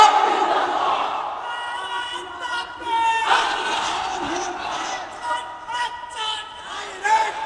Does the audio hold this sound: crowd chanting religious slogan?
yes